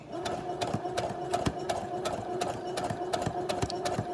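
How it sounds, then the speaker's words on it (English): Sewing machine stitching a fabric face mask at slowed speed, a steady rhythmic mechanical whir with regular needle thumps throughout, close and continuous with no talk. "First we'll start the stitching."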